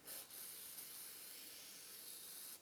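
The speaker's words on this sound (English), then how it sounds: "Just kind of give it a good spray all the way around." Aerosol gun oil sprayed in one long steady hiss over a stainless Ruger GP100 .357 revolver, close and continuous for about two and a half seconds with a brief break near the start.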